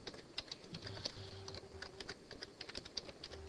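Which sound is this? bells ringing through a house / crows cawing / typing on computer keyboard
typing on computer keyboard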